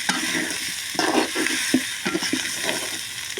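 Spices, including turmeric and chili powder, sizzling and frying in a pan while being stirred, with steady close hiss and repeated scraping stir strokes throughout.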